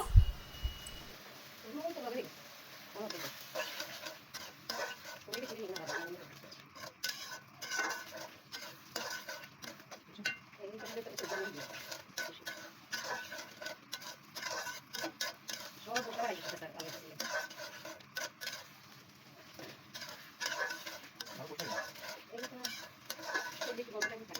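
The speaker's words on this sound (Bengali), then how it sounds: "এই যে এটাকে আমরা সুন্দর করে নাড়াচাড়া করে ভাজা ভাজা করে নিচ্ছি" Spices with garam masala being stirred and fried in a pan, a quiet ongoing sizzle with frequent rapid scraping and clicking of the spatula, heard under intermittent speech.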